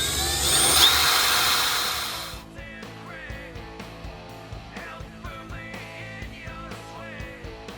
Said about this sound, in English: I've just got a little 1/8" drill bit on here